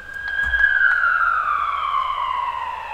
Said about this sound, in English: Some sirens here, because why not?